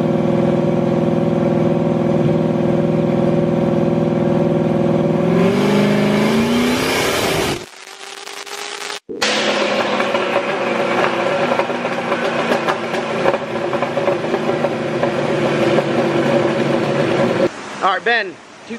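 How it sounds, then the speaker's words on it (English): Loud turbocharged car engine recorded right beside the exhaust, running at 14 pounds of boost: a steady high-revving drone that drops off, cuts briefly, then returns as a sustained rumbling roar, with a voice talking over it. "I know it's loud, it's right by the exhaust"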